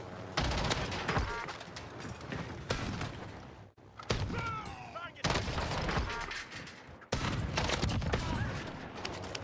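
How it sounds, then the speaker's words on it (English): Gunfire in the Warzone video game: dense, loud bursts of rapid shots roll almost without pause, with a few brief gaps between volleys. "Taking fire over here."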